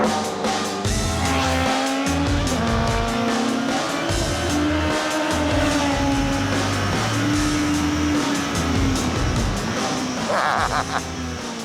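A car accelerating hard with engine roar and drawn-out tire squeal, loud and continuous throughout at close range, with a few faint voices beneath.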